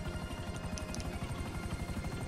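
Steady helicopter rotor in GTA V Online, a loud continuous low thumping chop with a whine above it that runs the whole time without pause.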